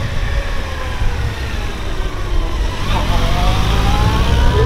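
A police motorcycle rides toward a pylon in a riding-skills lesson, its engine a steady low drone that rises slightly in the second half, with voices talking over it.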